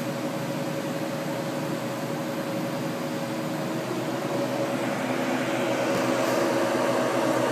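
Oven running at 550 degrees while a Hunt Brothers pizza cooks, a steady even mechanical hum and airy fan noise holding at constant loudness with no talk.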